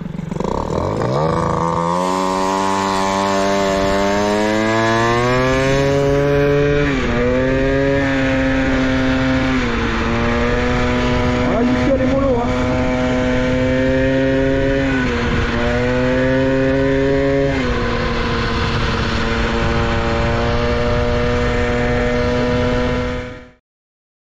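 A motorcycle engine runs after a clutch overhaul, starting slightly rich. It holds a loud, close, steady drone with a few small rises and dips in revs for over twenty seconds, then cuts off abruptly.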